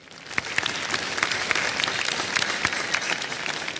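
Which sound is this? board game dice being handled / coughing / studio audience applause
studio audience applause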